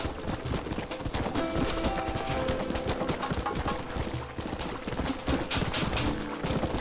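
A horse's hooves pound rapidly and continuously in Red Dead Redemption on PC, the galloping clip-clop loud and dense over a steady wash of game ambience, with no talk.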